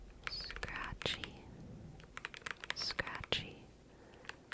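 A computer keyboard is tapped and handled up close in a quiet ASMR setting, with scattered soft clicks and scratches under whispering.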